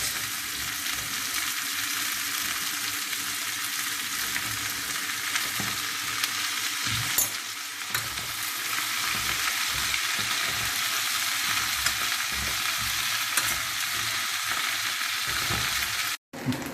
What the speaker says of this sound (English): I'm going to fry bhindi for a few minutes till it becomes soft.